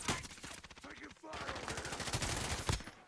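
Call of Duty gunfire rattles in fast automatic bursts, steady repeated shots over a low game background with a brief pause in between.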